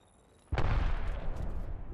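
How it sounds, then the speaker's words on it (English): A grenade exploding in the video game Apex Legends, one sudden heavy boom after a quiet start, followed by a rumbling decay lasting over a second. "Throw grenade."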